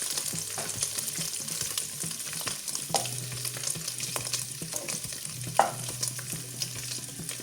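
Pork fat sizzles and crackles steadily in a hot pan, with occasional sharper pops and light scraping from stirring.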